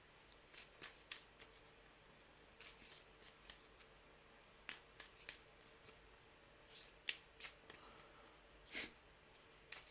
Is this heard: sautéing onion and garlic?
no